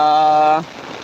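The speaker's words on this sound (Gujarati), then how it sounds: "ખતરનાક વરસાદ ગાઈઝ ચાલુ જ છે" A burst of voice opens, then a steady broadband hiss of heavy rain pours down, continuous and fairly loud.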